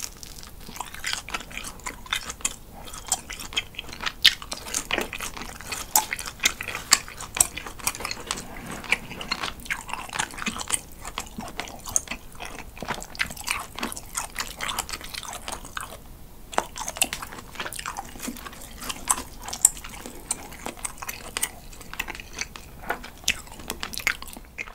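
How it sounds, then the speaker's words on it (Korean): Grilled cheese is chewed close to the mic, giving a long run of dense, squeaky, rubbery bites and crunchy clicks in an irregular rhythm, with no talking over it. "고무 씹는 것 같은 소리가 좀 나는데요"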